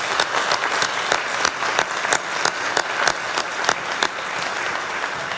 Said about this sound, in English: I think everyone deserves a round of applause